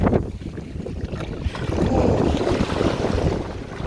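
A small boat sits on the water near an island off Dar es Salaam, ready to be towed away. Water sloshes and wind buffets the microphone in a continuous, fairly loud rush.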